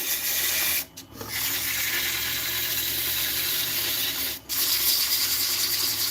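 Steady, continuous sanding of a wooden bottle stopper spinning on a lathe, a broad abrasive rushing hiss broken by two brief pauses when the paper lifts off the work, close and loud with no talk.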